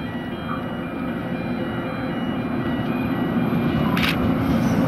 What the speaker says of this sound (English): Mossvale service arriving into platform number 2.